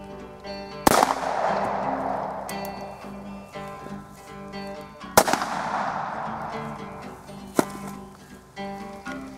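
Bond Arms Derringer fired during clay shooting outdoors: three sharp, loud gunshots spaced a few seconds apart, each followed by a long echoing decay over steady background noise.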